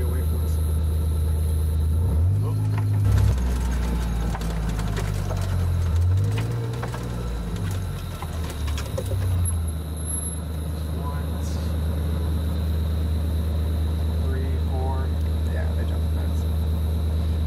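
A hunting vehicle drives over rough terrain, its engine a steady low rumble with shifting revs and occasional bumps and rattles, close and continuous throughout.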